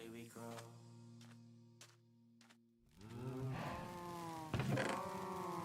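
Many cows packed closely together in Minecraft moo and low in overlapping calls, with layered tonal bellows that thicken and grow louder toward the end.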